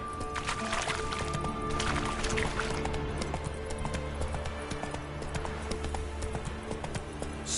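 Horse hooves galloping in the video game Witcher 3, a steady run of close clip-clop beats over a constant low ambient game bed, with a brief whinny-like tone near the start.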